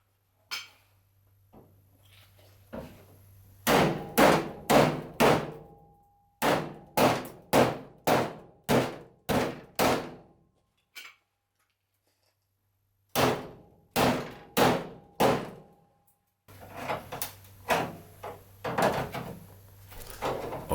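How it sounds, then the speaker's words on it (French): Heavy hammer blows strike the metal bonnet of a BMW E46 Compact during bodywork repair, landing in close, loud bursts of four to six evenly spaced hits separated by pauses, each ringing with a hollow sheet-metal clang. "Des bons coups de marteau sauvagement placés."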